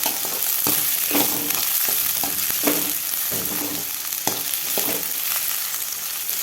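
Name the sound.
sautéing chopped shallots in a pan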